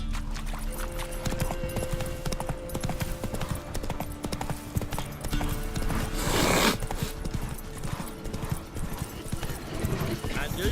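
Roach, a horse in The Witcher 3, clip-clops steadily on hooves at close range under game music, with a brief whinny and someone talking over it.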